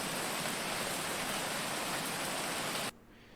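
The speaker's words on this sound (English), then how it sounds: "I have the audio forest rain." Forest rain falls as a dense, steady hiss of drops for about three seconds, then cuts off abruptly to near silence.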